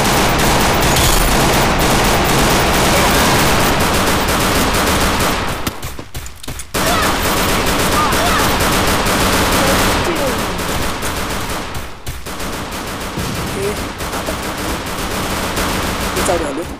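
Pistol fire in a shooting video game, loud and dense, with rapid overlapping shots hammering almost continuously, broken by two short pauses.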